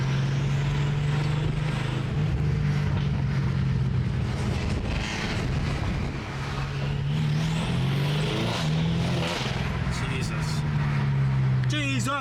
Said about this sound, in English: That turbo spool sounds crazy